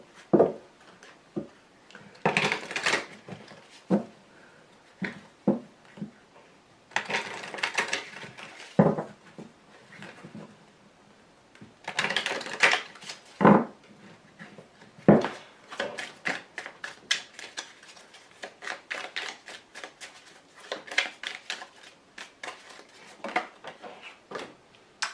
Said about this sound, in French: Allez, je rajoute 3 petites cartes dessus.